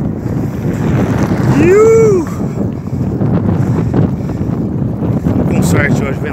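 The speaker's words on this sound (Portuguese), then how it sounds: "Vento contra, ferrou" A strong headwind blows into the microphone during a bicycle ride on a dusty dirt road, a loud continuous roar and buffeting throughout, with a brief whistling tone passing through it.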